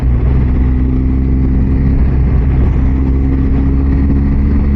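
A BMW R1250 GSA motorcycle engine drones steadily while riding, a loud, constant low rumble with a mix of wind buffeting, holding an even throttle throughout.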